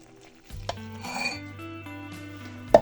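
A spoon scrapes and swirls through thick oat-free cake batter made with milk and baking powder in a bowl, close up, with a clink of utensil against the bowl at the start and end.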